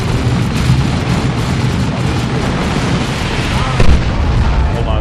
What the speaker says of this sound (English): We are under heavy fire and losing control of our flanks